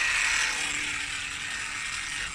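A Kokido Telsa 30 pool vacuum for a spa, switched on, gives a steady, close mechanical whirring buzz with a ratchety texture that holds level throughout, with no voices.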